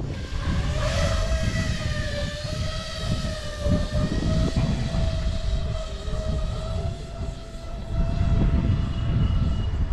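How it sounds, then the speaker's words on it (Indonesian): A large FPV drone, not running on lipo batteries, circles over an open field with a loud, steady droning engine whine that holds constant pitch throughout, no voices present. "Oke, putar-putar di lapangan dulu karena ini drone-nya cukup besar dan bukan menggunakan baterai lipo."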